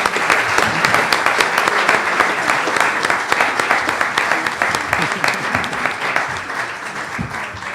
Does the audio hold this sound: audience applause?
yes